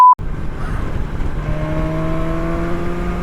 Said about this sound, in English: Now that car crossed the white line in the middle as it went round that bend.